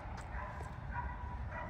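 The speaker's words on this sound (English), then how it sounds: "Some kind of dog barking over there" A dog barks a few times off in the distance outdoors at dusk, faint and brief yips over a steady low background rumble, with no talking.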